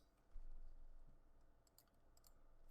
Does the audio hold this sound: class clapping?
no